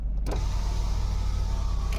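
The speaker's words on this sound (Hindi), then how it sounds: "चारों विंडोज़ को मोर देन हाफ खोल दें" A car's electric windows wind down with a steady motor whine lasting nearly two seconds, bracketed by soft clicks at start and end, close inside the cabin over a low hum.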